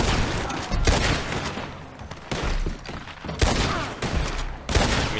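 Dense gunfire in the Red Dead Online video game: overlapping volleys of shots in repeated loud bursts, with brief gaps between them, and no talking.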